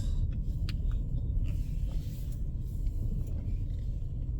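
A car's engine rumbles steadily at close range in a garage during a snow blizzard, a low continuous drone as the vehicle is driven in and parked.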